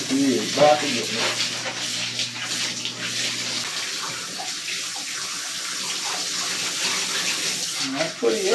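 Running water spraying steadily from a shower during a puppy's bath, a continuous close hiss that fills the whole stretch, with brief bits of other sound near the start and end.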